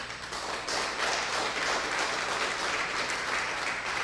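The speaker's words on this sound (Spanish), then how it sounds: "Pero si van a aplaudir, aplaudan con ganas." A church congregation claps enthusiastically, a dense, loud, sustained roar of applause that swells after the first half second and holds steady, with no talking.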